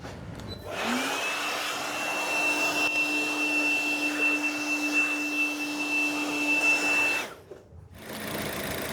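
Compressed air blows down the engine bay of a Buick Encore with the 1.4L turbo engine after a coolant leak repair, a steady hiss with a faint whine lasting several seconds before cutting off.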